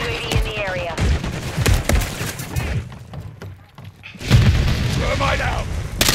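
Gunfire in a first-person shooter game, bursts of rapid shots and booms mixed with in-game voice callouts, loud and close, with a quieter lull in the middle before the firing returns.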